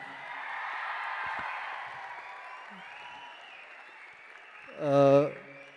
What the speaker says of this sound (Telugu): నా కోసం వీళ్ళందరికీ ఒక్క huge round of applause please